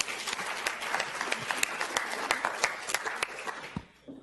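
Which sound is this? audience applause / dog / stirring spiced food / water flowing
audience applause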